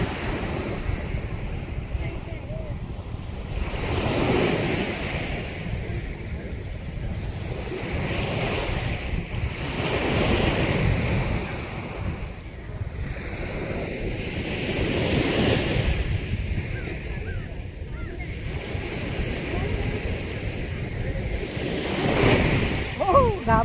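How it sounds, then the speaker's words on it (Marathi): Big ocean waves wash up the beach to the feet of someone standing at the water's edge, rolling in as loud repeated surges under constant wind noise. "आली आली आली पायाला लागली लागली लागली पायाला लागली पायाला"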